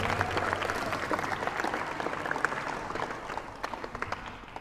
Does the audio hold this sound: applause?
yes